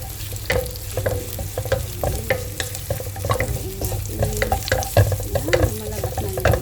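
Onion and garlic frying in a pan for chicken adobo, stirred with a utensil: steady close sizzle under repeated scraping and clinking strokes, no talking.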